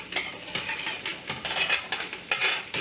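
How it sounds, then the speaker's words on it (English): Ground beef, onion, peppers and jalapenos stirred in a pan for chili, with a spoon scraping and clinking against the pan in uneven strokes over a soft sizzle, close and moderately loud. "And give that a good stir."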